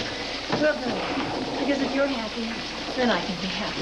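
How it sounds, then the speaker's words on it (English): Steady rain falls through an outdoor scene in a daytime soap drama, a continuous even hiss running under people talking close by. "let's get out of the rain now"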